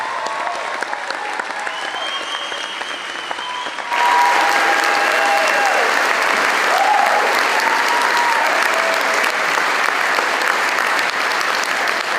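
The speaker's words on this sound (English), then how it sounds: "how about one final applause for Team B, Grade A 2026 class." Sustained audience applause at a Team B middle school moving-on ceremony, a steady wash of many hands that swells louder after a few seconds and carries on with faint cheering tones mixed in.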